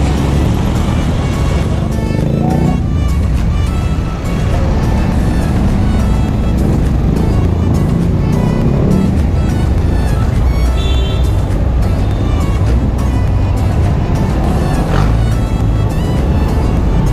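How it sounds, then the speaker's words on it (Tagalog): Road traffic near Cubao roars steadily as a dense, loud wash of engine and tyre noise from passing cars and motorbikes, continuous and close throughout. "Uy, traffic dito ah."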